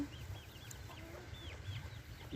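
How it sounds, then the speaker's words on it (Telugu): A hen in a basket at a farm gives a few soft, quiet clucks and short chirping calls over a low background hum, with other fowl faintly audible nearby. "ఇక్కడ కనిపిస్తున్న పెట్ట యొక్క జాతి ఏంటో చెప్పండి అండి"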